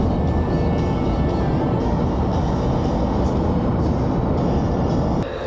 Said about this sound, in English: Might be hard to hear me because of the wind